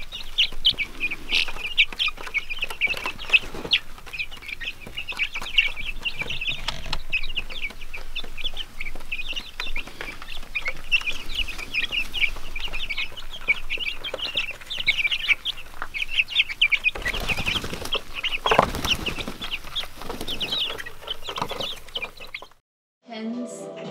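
Hens cluck and chatter continuously on a spring vineyard farmstead, a busy close flock with overlapping calls throughout and a few louder squawks.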